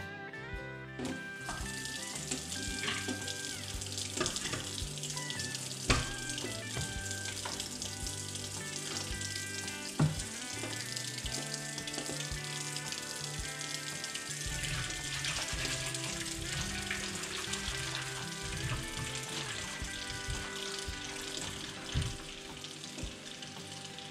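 Running water pours into a sink as a K&N motorcycle air filter from a Speed Triple is washed, a continuous splashing stream with occasional knocks and clunks against the basin.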